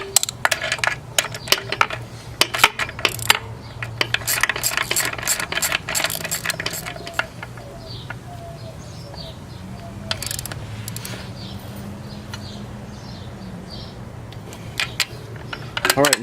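A ratchet clicks in quick bursts while tightening subframe suspension bolts on a car, close and crisp with pauses between runs, faint background noise underneath.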